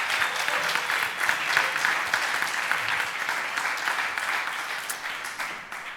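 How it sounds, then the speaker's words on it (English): Sustained audience applause at a tech hackathon night event in Paris, dense and steady for the full stretch with no pauses, fairly close and evenly loud before fading slightly at the end. "A round of applause"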